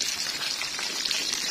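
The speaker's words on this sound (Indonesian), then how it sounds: "Sekarang mau goreng tempe." Tempeh frying in hot oil, a steady broad hiss and crackle of sizzling that stays even and close throughout, with no talk over it.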